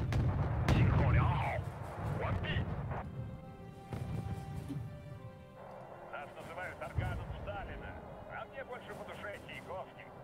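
Chinese rockets fire in a war video game as a series of booming launches and blasts, some close and heavy, others distant, while voices talk over the gunfire.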